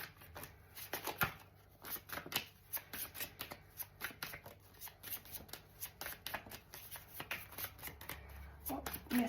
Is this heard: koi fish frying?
no